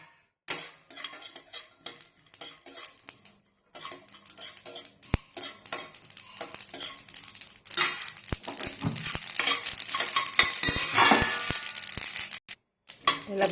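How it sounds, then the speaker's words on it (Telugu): Sesame seeds fry in a pan while a utensil stirs them, giving close scraping and clinking of metal on the pan with a light crackle that builds toward the end. "కొద్దిగా నువ్వులు కానీ వేపుకుందాం."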